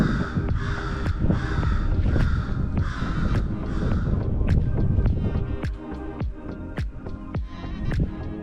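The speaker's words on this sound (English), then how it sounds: "Birds over there." Crows caw repeatedly in a loose rhythm at a Florida marina, harsh calls standing out over steady wind noise, moderately close with no talk.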